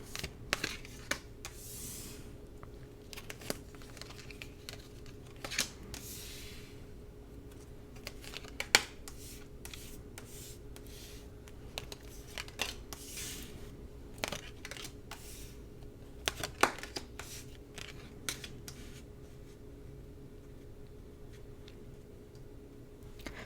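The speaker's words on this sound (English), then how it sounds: "I'm going to lay the cards down before I start talking" Tarot cards laid down one by one on a table, soft taps and slaps with light shuffling rustles, close and quiet at an irregular pace.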